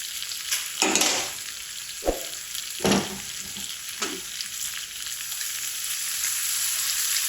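Freshly ground masala and half a lemon with pickle vegetables sizzle in a pan, a steady close fry broken by a few sharp stirring scrapes, no talking.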